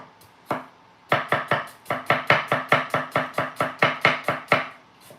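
A knife chops rapidly on a cutting board, sharp steady knocks in quick bursts after a couple of single strikes, close and clear.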